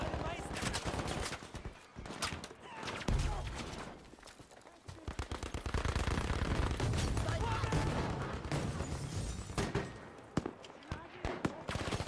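Bursts of rifle and automatic gunfire in Battlefield 5, with sharp repeated shots and rattling volleys mixed with explosions, heard under and between people talking casually.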